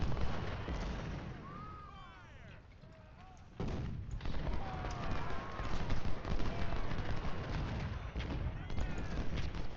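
Cannon fire from a Civil War battle in Ultimate General: Civil War: a booming report erupts partway through, then continues over ongoing battlefield gunfire and din.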